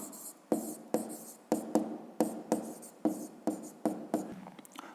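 Pen writing on paper during a fifth-grade maths exercise, a series of quick scratchy strokes starting and stopping in a steady rhythm, close and fairly quiet with no talking.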